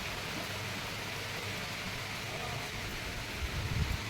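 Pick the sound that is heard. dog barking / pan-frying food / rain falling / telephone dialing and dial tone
rain falling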